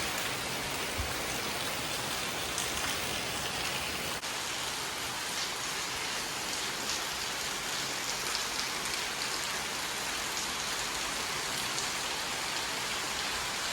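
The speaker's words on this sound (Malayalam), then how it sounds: "മഴ പെയ്തേക്കണയാണ് കാണുന്നത്" Heavy rain pours down steadily in a village setting, a dense, even hiss of drops hitting surfaces that holds constant from start to finish with no voices.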